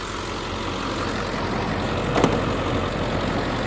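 A 2003 Ford Excursion's 7.3L Powerstroke diesel idles steadily with a low, even rumble heard up close from under the open hood, with a brief sharp click partway through.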